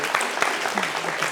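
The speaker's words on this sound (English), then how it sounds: "Round of applause." Brief audience applause at a vegan advocacy talk, a dense, close burst of many hands clapping with no pause.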